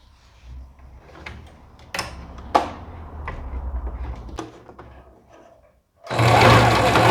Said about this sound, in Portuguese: Eu vou lá e vou passar uma costura aqui pelo lado avesso.